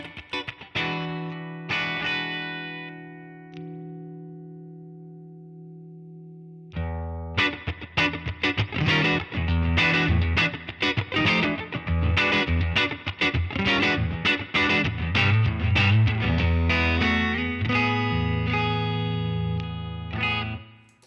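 An electric guitar through a Line 6 Stadium XL Deluxe Reverb amp model rings out sustained chords, then a busy strummed and picked passage plays on, clean-ish with a spacious, echoing tail.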